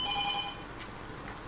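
A telephone rings with an incoming call to a live radio call-in show, a short bright electronic trill that sounds once and stops, leaving room noise.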